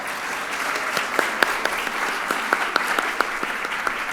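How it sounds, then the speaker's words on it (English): An audience applauds at a New Orleans panel event, a steady wash of many hands clapping at moderate distance with a few louder individual claps standing out, and no talk over it. "give him a round of applause"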